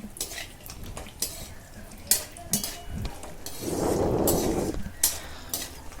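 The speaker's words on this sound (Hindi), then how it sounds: "उसमें हमने ड्राई फ्रूट डाल दिए और इनको रोस्टेड करने के लिए थोड़ा देर उसको हम चलाएंगे।" Dry fruits roast in melted ghee for potato halwa while a spoon stirs and clinks against the pan, sharp repeated scrapes over a low sizzle that swells in the middle, no talking.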